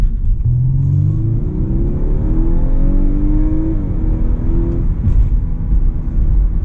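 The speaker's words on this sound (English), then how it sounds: "Hit those paddles. Engine sounds good." A 2023 Audi A5 Sportback engine pulls hard under acceleration through paddle-shifted gears, loud and close, with a steady rising drone that drops briefly at a smooth upshift before climbing again.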